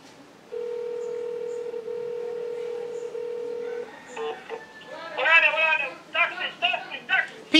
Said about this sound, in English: Peter, why you hang up the phone?